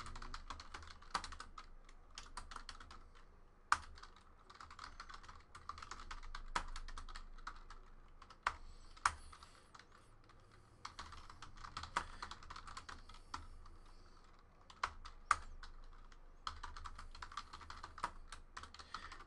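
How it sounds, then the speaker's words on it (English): Typing on a computer keyboard, close and steady, as player names are entered for a randomizer during a football trading card box break. Keystrokes come in uneven bursts, with sharper taps and clicks standing out over faint background hiss. No one speaks. "Let's type in all the hits."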